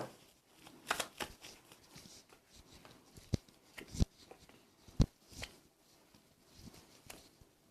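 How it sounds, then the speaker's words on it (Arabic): Tarot cards being shuffled and drawn by hand at close range, a series of soft riffling flicks and sharp taps scattered irregularly, with quiet rustling between them and no speech. "طيب عايزة اسحب كروت تاني"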